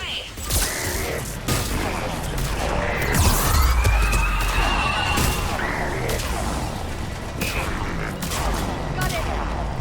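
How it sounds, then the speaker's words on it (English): Missiles launch in Mass Effect 3 amid loud combat, a series of sharp bursts and whooshing blasts with gunfire and crashing impacts, dense and continuous, with brief voices in the mix. "Missiles are hot. Missiles away."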